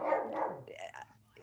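A dog barks nearby during an online webinar, a short burst of two or three sharp barks followed by a whimpering tail, fairly quiet and alone without talk.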